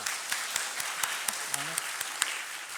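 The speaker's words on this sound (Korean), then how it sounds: "너무 좋으셔서 하나님께 영광의 박수 다시 올려드리겠습니다" Church congregation applauding during a Sunday worship service, a steady wash of many hands with a few sharper claps standing out, at moderate level with a brief voice murmuring underneath.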